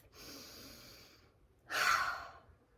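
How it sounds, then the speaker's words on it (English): A slow, deep breath drawn in by a children's storytime group settling quietly before a story: a soft, long inhale, a short pause, then a louder breathy exhale, close and alone without talk. "Take a nice big deep breath."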